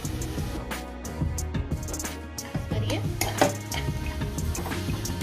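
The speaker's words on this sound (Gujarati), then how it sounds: "મસાલામાંથી તેલ છૂટું પડે ત્યાં સુધી આપણે એને મિક્સ કરતા રહીશું" Ground spices (turmeric, coriander-cumin powder, Kashmiri chilli and roasted cumin) are stirred in oil in a pan for a leftover-rice dish. Repeated close scraping and clinking strokes of a spoon against metal continue with a faint sizzle underneath.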